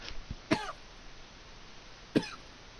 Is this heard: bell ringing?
no